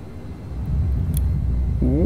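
Eurofighter jet engine spooling up to full throttle in Flight Simulator 2020, a loud rising rumble that swells and holds, with a whining tone climbing near the end.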